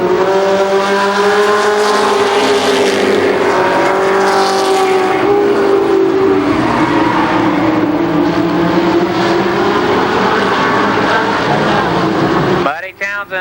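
ARCA Pro 4 race cars race at Columbus Motor Speedway, engines screaming loud with rising and falling pitch as cars pass, continuous pack noise under a commentator's voice, ending with an abrupt clatter.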